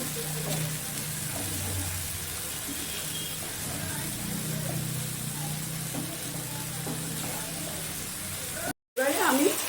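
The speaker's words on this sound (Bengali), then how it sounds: "একসাথে সব কষানো হচ্ছে এগুলো।" Masala for a Bahari egg curry sizzling and frying in a pan as it is stirred, a steady close hiss with faint scraping, cut briefly by a short silence near the end.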